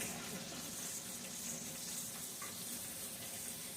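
Bacon rendering its fat in a pan, a steady, soft sizzle that holds an even level throughout.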